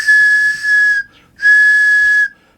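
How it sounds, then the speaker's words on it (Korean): A handmade whistle blown in two long, steady, piercing blasts with a brief gap between them, loud and close with no voices. "굵기와 길이, 재료에 따라 다양한 소리가 나는 호루라기 정말 신기하죠?"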